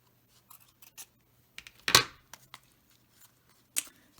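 Scissors trimming a paint chip paper card: scattered light clicks and snips, with one louder, sharper cut in the middle, set against near-silence.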